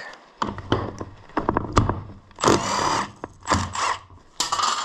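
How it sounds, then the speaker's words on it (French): An impact wrench undoes the 17 mm nut holding the rotor on a Honda Zoomer 50 scooter engine, giving several short rattling bursts of hammering, close and loud, separated by brief pauses, with no talk. "Coup de clé à choc."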